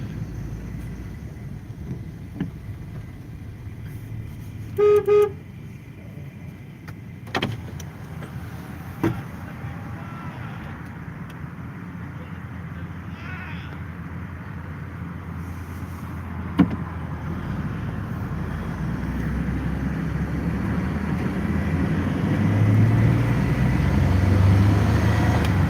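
Busy road traffic rumbles steadily from inside a moving vehicle, with a short car horn honk and a few knocks and clicks, the engine and road noise swelling louder toward the end.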